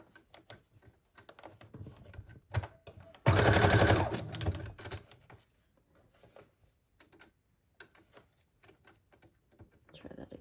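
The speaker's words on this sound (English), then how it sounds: "I'm totally fine with the sewing being kind of messy" A sewing machine stitches paper scraps for a junk journal in one loud buzzing run of about a second, surrounded by quiet handling taps and rustles, with a person speaking softly at times.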